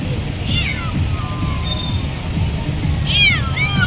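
Pet cats, unused to being outdoors, meow and cry after free vaccinations at a barangay program, several plaintive rising-falling calls near and clear over a steady low murmur of background crowd.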